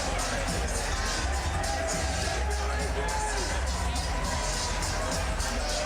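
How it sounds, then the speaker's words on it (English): A college hockey arena crowd roars and cheers steadily through a face-off, in a dense, continuous wall of noise with a commentator talking over it. "Got the crowd cheering him on."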